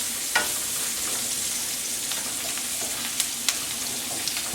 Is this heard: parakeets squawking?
no